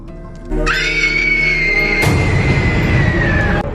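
A woman's long, loud, sustained scream in a horror film rises sharply and holds steady for about three seconds, with a harsh noisy burst joining partway through.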